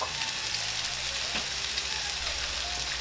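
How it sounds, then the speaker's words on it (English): Red onions fry in canola oil with a dense, continuous sizzle that stays loud and close, with faint stirring underneath. "So we'll let our onions cook."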